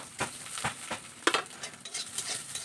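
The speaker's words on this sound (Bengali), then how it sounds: "আর এখন দিয়ে দিচ্ছি গোবিন্দভোগের চাল" Gobindobhog rice stirred in a pan with cumin and fenugreek, a close scraping sizzle with a few sharp spoon strokes against the pan and a steady frying hiss.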